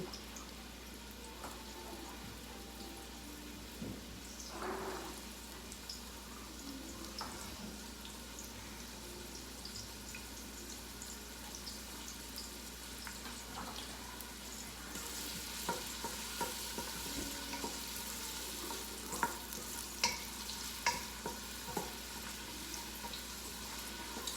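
Onion sizzles in hot olive oil for seafood paella, a low, continuous frying hiss with occasional stirring scrapes and small pops that grow busier toward the end.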